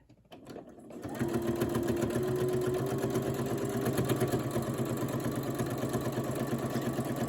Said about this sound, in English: lay it down and start sewing very close to a corner